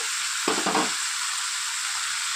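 Prawns and boiled taro greens stirred in a frying pan over a low gas flame, with a steady hiss of sizzling oil and a short burst of scraping and stirring near the middle, no voices.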